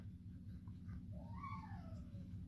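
A small abandoned kitten gives a faint, rising-then-falling meow once amid a steady low background rumble, heard close and alone.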